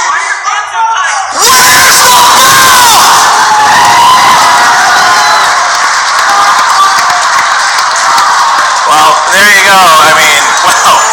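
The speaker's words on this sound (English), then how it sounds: "they're firing up the crowd here" A Schmoedown event crowd rallying behind the Action Army, shouting, whooping and cheering loudly and continuously for about ten seconds after a brief quiet start, with scattered individual yells rising above the roar.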